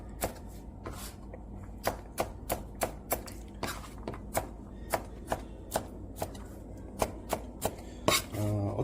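A knife chops walnuts on a cutting board into large pieces for walnut rice, a run of sharp, evenly spaced chops close by, about two per second, over quiet kitchen background.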